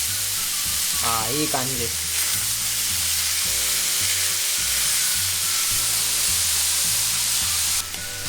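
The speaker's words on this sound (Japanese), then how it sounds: "触りすぎたら水分が出てきてしっかり炒められない" Wild boar meat sizzling and frying in a pan for a spiced ragù, a steady crackling hiss with occasional stirring scrapes, and a person briefly speaks a short phrase early on.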